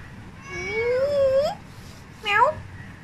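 A cat's meow, one drawn-out rising call followed by a short second meow, close and clear over faint background noise.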